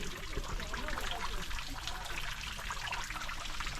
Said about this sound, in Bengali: এই যে ঝর্ণা পড়তেছে